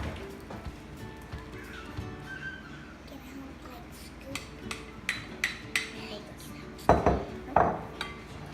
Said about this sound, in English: Combine your wet ingredients with your dry ingredients.